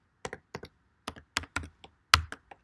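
Keys on a computer keyboard tap out a password in short, irregular clusters of close, crisp clicks, about ten strokes with small gaps and a firmer final press.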